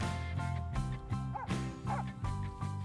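Police dogs let out a string of short, repeated barks and yips at a fairly even rhythm, close by, over a steady tonal background.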